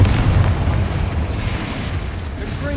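A Confringo spell explodes in Hogwarts Legacy, producing a loud, close, rumbling blast that holds steady and heavy without a break through the short moment.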